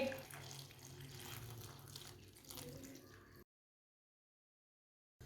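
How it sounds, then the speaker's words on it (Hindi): Water from a glass is poured into a cooking pot holding halved tomatoes in a home kitchen, a steady close splashing that runs for about three seconds and then cuts off. "अब इसमें 1 गिलास पानी डाल लेंगे।"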